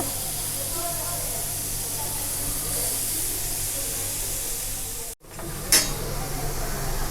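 Viral fish pieces laid in a row on an oiled dosa pan, frying with a steady close sizzle and hiss, briefly cut out then resuming with a sharp spitting burst.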